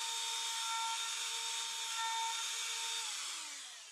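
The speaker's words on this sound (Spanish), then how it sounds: "es una broca de router nueva y afilada" A new, sharp router bit cuts into a kitchen countertop with a steady, loud, high-pitched whine and bright tonal hum that holds evenly for several seconds before easing off.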